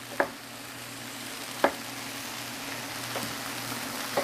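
Spinach cooks in a pan with a steady, broad sizzle, punctuated by a few sharp stirring or utensil clicks at irregular intervals; no one speaks.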